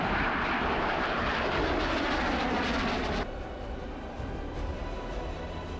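Roar of Chinese J-17 and Su-30 fighter jets, a loud, broad, continuous rush that drops slightly in level partway through, with no talk.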